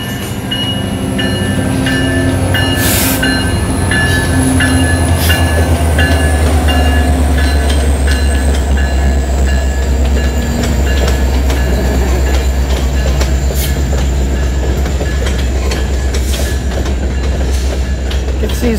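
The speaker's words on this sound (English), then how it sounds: "Uh-oh. You get to see a train." A train rolls past nearby, seen from an e-bike ride in Canada, its steady loud rumble and clickety-clack of wheels filling the scene, with a faint wheel squeal and high whine running throughout.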